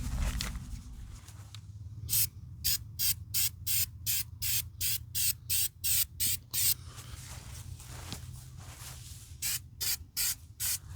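An aerosol sealant spray can hisses in a rapid series of short bursts, about a dozen quick sprays, pausing briefly before another run of bursts.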